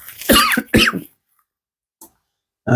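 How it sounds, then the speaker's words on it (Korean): Two harsh, close coughs in quick succession, then silence, a faint short sound, and the start of another noisy burst at the end. "감기 때문에 기침이 나네요"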